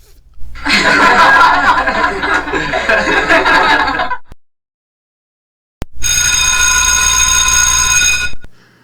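A school bell gives a loud, steady electric ring lasting about two and a half seconds. It comes after a burst of noisy laughter-like commotion and a short silence.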